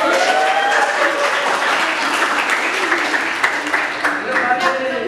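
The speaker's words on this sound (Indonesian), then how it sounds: "Tepuk tangan dong" Crowd applause at a university campus event, a dense, even wash of clapping sustained throughout, with faint voices mixed in.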